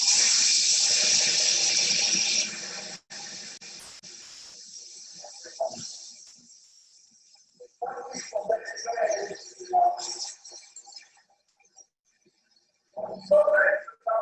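Water gushing from plumbing fixtures at a plumbers' union training center demonstration: a loud, steady rush that cuts off after a few seconds, followed by people talking in a room.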